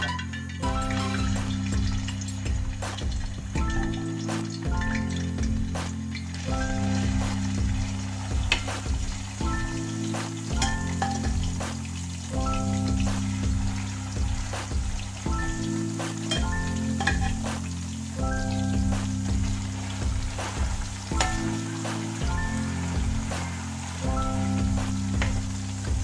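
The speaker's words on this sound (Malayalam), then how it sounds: "അപ്പം നമുക്ക് കുറേശ്ശെ അത് ബീഫിൽ കൊടുത്ത് ഇവിടെ വറുത്തെടുക്കാം." Pieces of beef fry in hot oil in a pan, giving a constant loud sizzle and crackle that runs throughout, with steady background music and no talking.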